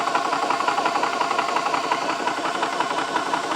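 A Nomad II personal air compressor runs steadily while filling an airgun, giving a loud, continuous mechanical hum with a fast, even pulsing chatter throughout, close to the microphone and with no talking.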